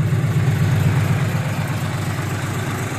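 An Isuzu NPR truck engine idles through a newly fitted exhaust pipe, making a loud, steady, close low rumble with an even throb and no voices.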